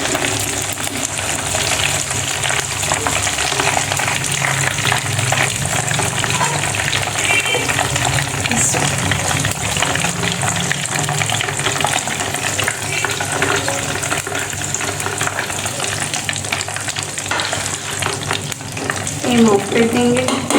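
Lahori chargha fries in a pan with oil, sending up a loud, continuous sizzle and bubbling hiss that holds steady from start to finish, close and alone with no voices.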